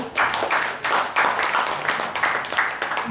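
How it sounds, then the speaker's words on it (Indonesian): Audience applause at an event in Indonesia, many hands clapping in a dense, lively stream that swells in waves, fairly loud and without speech. "Tepuk tangan buat WRI dulu"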